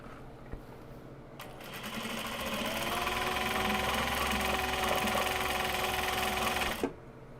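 A sewing machine stitches a small box bag, its motor spinning up into a steady, close whir that runs for about five seconds before stopping abruptly.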